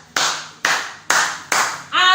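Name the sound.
applause, hand clapping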